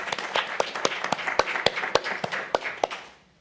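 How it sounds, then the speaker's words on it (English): A small audience at a talk claps in distinct, separate hand claps that stay fairly sparse and trail off toward the end. "Can we give Kate a round of applause?"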